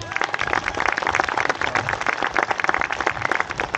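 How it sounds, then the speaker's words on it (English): A round of applause for police officers at a reception, busy overlapping clapping that stays loud and steady throughout, with no voices on top. "May I request everyone to give them a loud round of applause."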